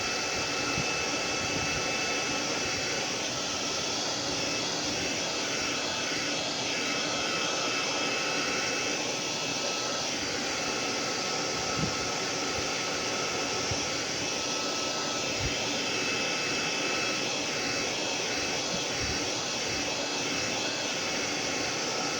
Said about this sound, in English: always blow dry on hot before you take it off